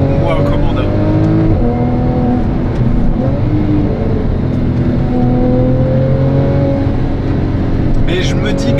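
A Porsche 911 Carrera GTS in manual mode accelerates hard, its engine note climbing steadily through the revs with a loud, close, continuous roar and a brief shift in pitch partway through.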